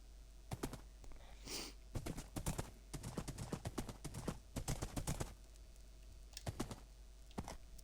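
A horse galloping in Minecraft, rapid clip-clop hoofbeats arriving in quick irregular bursts, close and fairly loud, with short pauses between runs.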